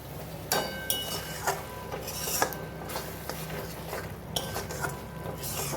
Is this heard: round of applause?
no